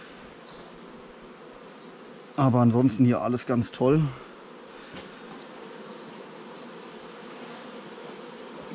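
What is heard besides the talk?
honey bee colony buzzing during hive inspection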